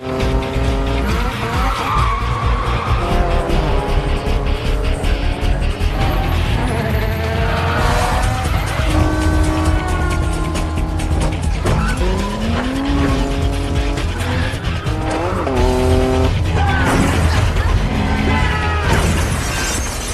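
Cars race and skid through a film street chase, with repeated loud tire squeals, revving engines and a burst of shattering glass, all dense and continuous.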